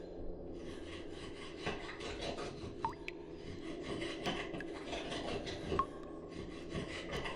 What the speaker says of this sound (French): On dirait un bruit de quelqu'un qui scie du bois.